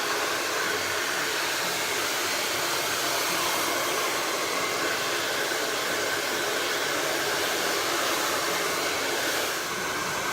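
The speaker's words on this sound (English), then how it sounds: "Now I set my blow dryer down" A hair dryer blows continuously at close range, a loud, steady whooshing hiss with no break.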